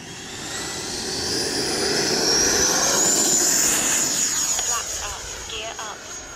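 An E-flite Viper 90mm electric ducted-fan RC jet takes off, its whining roar swelling and rising in pitch as it accelerates and passes nearby, then fading slightly.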